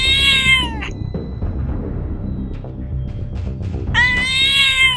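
A cat meows twice, a clear drawn-out call at the start and another about four seconds later, with quiet rustling between.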